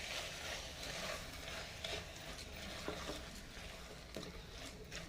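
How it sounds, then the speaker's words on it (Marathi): Washed rice sautéing in a hot pan, with a continuous close sizzle and frying hiss under occasional scraping stirs of a spoon against the pan, no voices. "जो धुवून घेतलेला तांदूळ आहे तो टाकायचा आहे छान असं परतून घ्यायचं"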